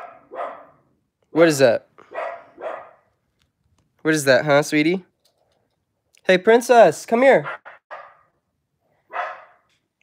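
A household dog barks in a few short, sharp bursts spread across the stretch, close by and fairly loud, with someone speaking softly to it between and around the barks.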